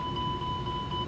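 Cockpit warning tone from an airliner's landing gear alert in Microsoft Flight Simulator 2020, a steady pair of pure beeping pitches held for about a second over low engine rumble, no voices.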